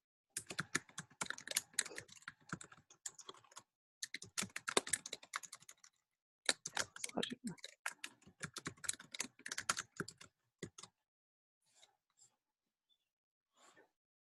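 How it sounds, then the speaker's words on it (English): Rapid clattering keystrokes on a computer keyboard come in bursts with short pauses, then thin out to a few scattered taps. "And she's typing, so."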